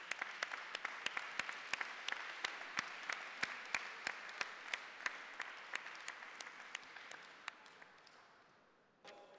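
A conference audience welcoming Via Campesina and Slow Food speakers to the stage claps in a steady rhythmic unison, sharp beats over a wash of scattered applause, gradually fading and stopping near the end.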